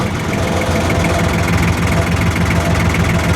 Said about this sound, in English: All right, tractor's in neutral.